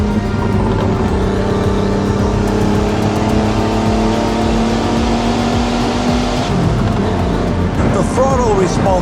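Porsche 930 Turbo engine pulling hard under acceleration as turbo boost builds, a loud steady drone rising in pitch before a gear change, with a driver talking over it.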